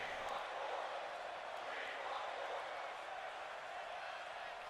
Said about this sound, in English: Crowd wants more.